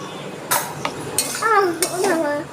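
A spoon scrapes and clinks against a pan while salt, turmeric and spices are stirred into lentils for dal puri, with several sharp metallic knocks and someone talking over the stirring.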